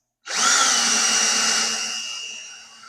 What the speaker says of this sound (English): so we're gonna just screw this in.